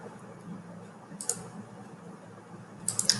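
A computer mouse clicks a few times, faint and close, with one isolated click followed by a quick cluster of clicks near the end over quiet room tone.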